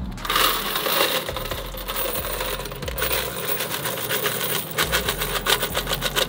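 Vending machine coins poured from a heavy five-gallon bucket, a loud, dense and continuous metallic jingling cascade close up, with rattling bursts swelling toward the end.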